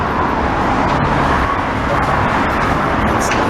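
Cars stream along a San Francisco freeway below a skateboard park in a dense, continuous roadway roar of passing traffic, steady and moderately loud throughout.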